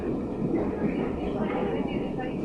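A Great Western steam train on the Paignton line runs steadily with a continuous low rumble and rattle of carriages heard from on board, with a voice speaking over it.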